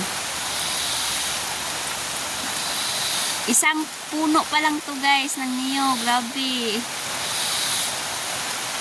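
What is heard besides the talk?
heavy rain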